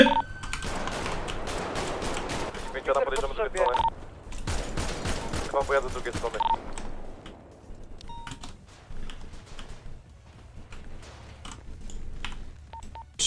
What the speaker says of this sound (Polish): mamy strzały na Paleto Bay, potrzebne wsparcie